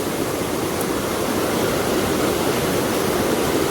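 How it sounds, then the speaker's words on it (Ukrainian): River rapids in Northern Ireland rush in a dense, steady roar of white water, loud and close, with no voices over it. "дуже багато таких порогів"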